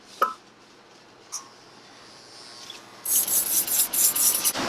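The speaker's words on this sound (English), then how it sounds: "Now I'm going to make my skin line with my trimmers," Skeleton hair trimmers cut a skin line during a fade haircut, a close buzzing rasp that starts after a few faint clicks and pulses in short strokes against the scalp.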